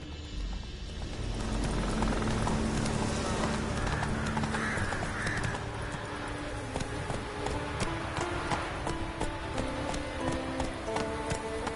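Galloping horse hooves beat in a rapid, continuous rhythm in The Witcher 3, close and loud over game background sounds, with no speech.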